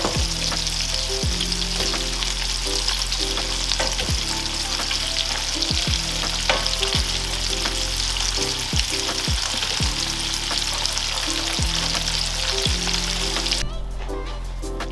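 Dumplings fry in light brown butter sauce over medium-high heat with a steady, loud crackling sizzle, broken by repeated short tonal sweeps before the sound suddenly thins near the end.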